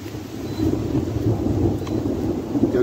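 Low, continuous thunder rumbles steadily alongside a soft wash of rain, with no voices.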